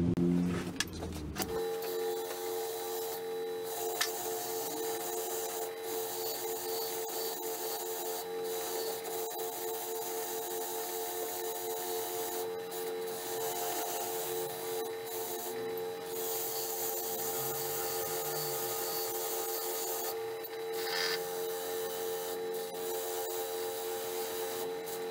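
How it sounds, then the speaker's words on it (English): Power wire wheel grinding rust off a pair of unbranded tin snips, a steady abrasive whir with rasping scrapes running continuously for the whole stretch after a brief start, no talking. "let's get this on the wire wheel and get this rust off of here"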